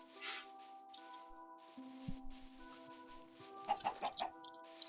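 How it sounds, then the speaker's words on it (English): Chickens in the video game Minecraft clucking faintly, with a few quick, sharp hit or squawk sounds near the end over quiet game background tones. "killing chickens is always fun."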